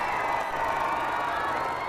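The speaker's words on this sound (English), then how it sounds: "The crowds went wild." A big crowd at a royal wedding roars and cheers in a steady, loud wash of distant voices, with no single shout standing out over the brief span.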